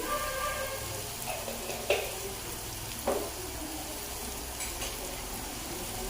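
Onion and tomato fry in a pan for a brinjal and green pea curry, a constant hissing sizzle with a couple of brief stirring scrapes, close and steady, no talking.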